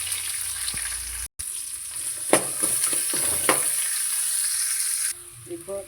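Onions frying in oil with mustard seeds, fenugreek, curry leaves and garlic in a pan, a steady sizzle with a few stirring scrapes, ending in quieter clinks.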